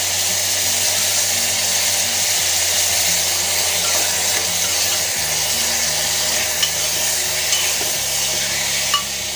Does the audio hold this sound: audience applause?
no